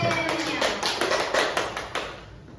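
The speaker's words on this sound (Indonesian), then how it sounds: "Yeay, tepuk tangan." Children in a classroom clap their hands in a quick burst of sharp, close claps that gradually thin out and fade over a couple of seconds.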